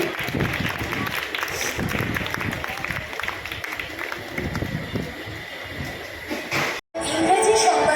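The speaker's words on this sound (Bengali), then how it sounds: "একটা জোরে হাততালি।" Audience applause at a Kolkata Press Club journalism award ceremony, a sustained crowd clapping of many hands that fills the clip, briefly cut off near the end.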